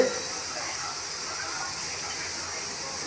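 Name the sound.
pressure cooker hissing steam, cooking toor dal with tomato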